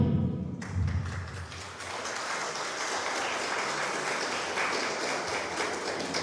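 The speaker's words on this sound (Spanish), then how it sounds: "hay que estimularlos con un gran aplauso" An audience gathered at a municipal public accountability meeting breaks into applause after a few low thumps at the start, then settles into a steady, moderately loud clapping that continues to the end.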